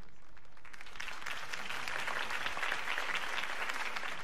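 Steady crowd applause in Batman: The Telltale Series, many hands clapping at once for several seconds, fairly distant and even in loudness.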